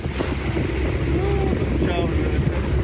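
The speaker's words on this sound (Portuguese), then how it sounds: "Esse aí é o nosso futuro barco aí, ó." A boat passes near the Phi Phi Islands in Thailand, a steady engine rumble with lapping water under heavy wind buffeting on the microphone, with a faint voice in the background.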